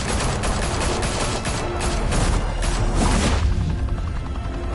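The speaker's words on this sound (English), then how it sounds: "Open fire!" Gunfire in a Batman video game, dense rapid bursts of shots and crackling blasts that fill the first three seconds at full loudness, then thin out into a rumbling tail.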